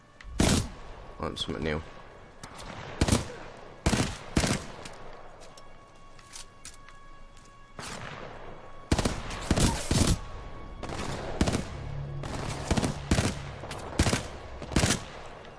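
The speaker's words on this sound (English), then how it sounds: "Burst fire." Separate bursts of gunfire from a burst-fire weapon in the game Titanfall 2, sharp loud volleys spaced a second or two apart, with someone talking between some of the shots.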